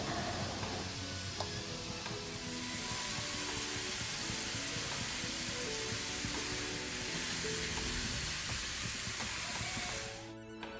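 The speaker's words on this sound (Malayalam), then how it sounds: "അതേ പാനിലേക്ക് വെളിച്ചെണ്ണ ഒഴിച്ചിട്ട് പിന്നെ ഉള്ളി ഇട്ടിട്ട് വഴറ്റിയെടുക്കുകയാണ്" Onions sautéing in coconut oil in a pan give a steady, dense sizzle with faint stirring scrapes, continuous and close for about ten seconds before easing off at the end.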